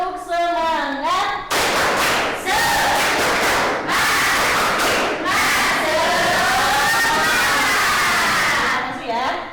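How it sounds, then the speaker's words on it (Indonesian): A classroom of students performs a rhythmic spirit clap, loud patterned clapping mixed with shouted chanting voices that fills the room almost continuously. "1, 2, 3, tepuk semangat"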